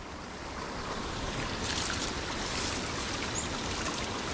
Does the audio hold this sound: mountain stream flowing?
yes